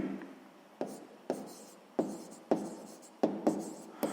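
Pen strokes writing out a sixth-grade math exercise solution on paper, a series of sharp scratchy taps and short scrawls in an irregular rhythm, close and fairly quiet over a faint room hiss, no talking.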